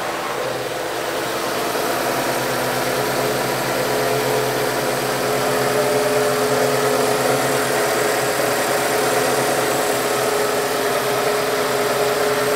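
A K11 Nissan Micra with a seized idle control valve idles steadily and alone, a continuous mid-pitched engine hum with a faint vibrating undertone held for the full stretch, close to the mic.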